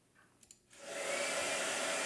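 A blow dryer switches on after a near-quiet moment with a couple of small clicks, then settles into a loud, steady rushing whoosh of air.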